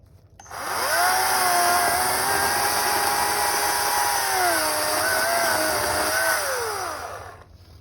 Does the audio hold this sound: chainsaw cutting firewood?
yes